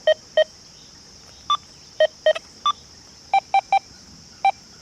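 XP Deus 2 metal detector giving a series of short, clean electronic beeps at varying pitches, spaced irregularly over a faint steady hum.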